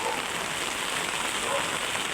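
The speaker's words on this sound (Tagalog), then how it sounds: "umuulan" Steady rain pours down in a dense, even hiss with no breaks, close and fairly loud, filling the scene on its own.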